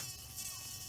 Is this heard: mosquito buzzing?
yes